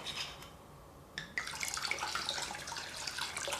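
Alcohol pours in a steady, bubbling trickle into a container of flavoring mixed with water for a frozen slushie drink, starting after a brief pause and continuing close by.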